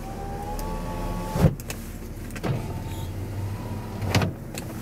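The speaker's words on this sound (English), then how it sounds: "take and wind the windows up." The electric windows of a 2011 BMW Z4 wind up with a steady motor whine, ending in firm thumps as each glass seals. A second run follows, close and quiet inside the car.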